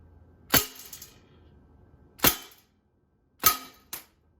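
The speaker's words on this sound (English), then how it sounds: "BBs ricocheting all around the house, popping out of the box" An indoor BB gun fires three sharp, close pops at spaced intervals, each leaving a short rattle as 4.5mm BBs ricochet around a room, and the last shot is followed by a quick extra tick.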